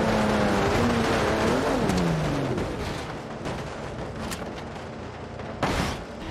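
A Toyota Supra engine roars and revs loudly at first, then dissolves into a dense run of crashing impacts as it plows through barriers, ending with one sharp, loud smash near the end.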